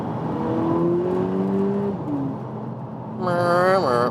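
The engine of a 2022 facelifted VW Polo GTI, heard from inside the cabin, holds a low, steady drone, then rises in a sharp rev blip as it downshifts through the shift paddles.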